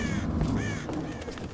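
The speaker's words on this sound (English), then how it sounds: "Shut up, birds!" Crows cawing in the video game Tomb Raider (2013), several harsh, close caws in quick succession over a low rumbling game ambience.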